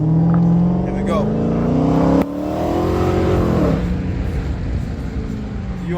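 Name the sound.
Dodge Challenger SRT Hellcat accelerating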